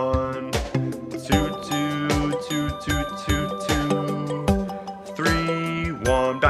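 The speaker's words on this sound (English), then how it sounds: "Let's play it with the numbers on our bells." Numbered handbells play the children's song Sally the Camel as a simple melody of repeated ringing notes, some struck in quick runs and others held, heard fairly close with no talk.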